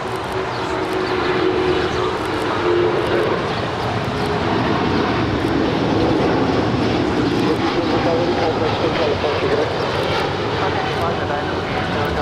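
A Dynasty airliner on its takeoff roll down runway 25 right at LAX gives a loud, continuous jet engine roar and rumble that holds throughout, with a voice talking over it.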